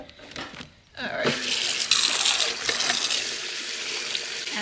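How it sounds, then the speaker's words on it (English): A luffa sponge is rinsed under running tap water into a sink, with a brief quiet start and then a steady close gush and splash of water for several seconds. "And then we're going to rinse it."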